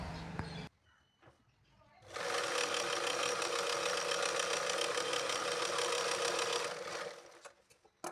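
A sewing machine stitches a straight hem along a marked line two inches in, running steadily and close for about five seconds after a brief start, with faint handling noises before and after.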